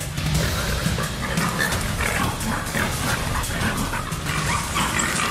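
Jeju dogs barking and yipping as they surround a herd of wild boars on Hallasan, a loud, steady tangle of barks and whimpers with grunting mixed in.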